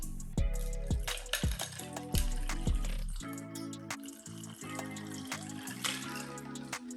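A mixed drink poured over a block of ice, with liquid splashing and clinking in a glass as bright tonal chimes ring through, fairly close and clear with no talking.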